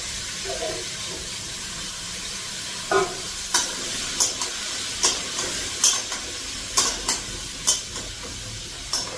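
Potato and cauliflower pieces fry in hot oil, a steady crackling hiss broken by a run of sharp scraping stirs with a spoon against the pan, close and fairly loud.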